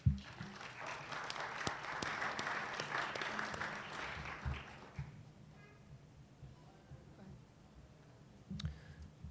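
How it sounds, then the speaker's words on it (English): An audience at a university athletics senior celebration gives a warm round of applause that swells for about five seconds, then fades to a quiet room with faint scattered sounds and a brief voice near the end. "Please give them a round of applause."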